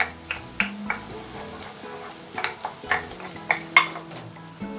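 Minced pork and garlic stir-fry in a pan, a soft background sizzle punctuated by repeated sharp clicks and scrapes of a utensil against the pan, irregular and close, with no talking.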